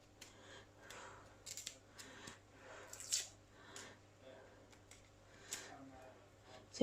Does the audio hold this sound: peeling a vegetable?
yes